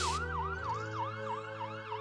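A cartoon-style ambulance siren wails in a steady, rapid up-and-down cycle, clear and alone for about two seconds.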